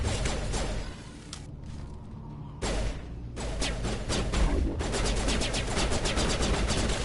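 Loud, continuous automatic assault-rifle fire from a Mass Effect firefight, dense rattling bursts with a brief lull near the two-second mark before the shooting resumes and runs steadily to the end.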